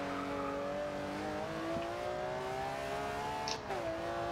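A 1968 Chevrolet's engine in the racing game Forza Horizon 2 holds a loud, steady drone whose pitch creeps upward as it revs, with a brief sharp chirp near the end and no talking.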